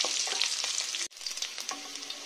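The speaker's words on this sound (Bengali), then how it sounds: "তো চলো আলুগুলোকে ভেজে নেওয়া যাক।" Potato pieces fry in hot oil for an egg curry, giving a close, dense crackling sizzle with stirring scrapes, briefly cut off for an instant midway before the frying resumes steadily.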